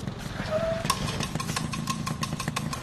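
A faulty motorcycle engine running steadily at a low idle-like rumble with a brief tonal whine early on, close and continuous without speech.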